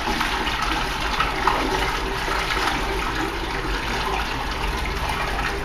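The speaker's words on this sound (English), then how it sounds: "Then she's going to open valve number two, the angle globe blowdown." Water rushes out in a loud, steady torrent through the opened angle globe blowdown valve of a Fulton boiler, continuous and close with no talking.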